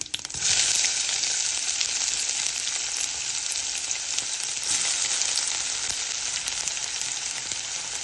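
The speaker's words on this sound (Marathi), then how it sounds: "त्याचबरोबर कढीपत्ता हे छान असं भाजून घेऊया आपला कांदा छान परतून झालेला आहे" Onion frying in hot oil with cumin and mustard seeds gives a loud, steady, close sizzle that runs unbroken from just after the start to the end, with no voices over it.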